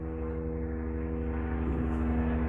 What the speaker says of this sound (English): I hear an aeroplane.